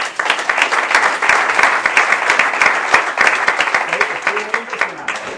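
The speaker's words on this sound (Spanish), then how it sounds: "daros un aplauso." An audience bursts into lively applause at a talk, dense close clapping that runs the whole few seconds while voices mix in near the end.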